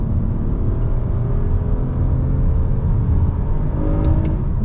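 A 2021 Toyota Camry TRD engine pulls steadily through its rev range, a loud continuous rumble and rising whir heard from inside the car, with no talk over it.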